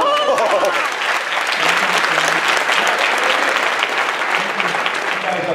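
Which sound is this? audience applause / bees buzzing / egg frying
audience applause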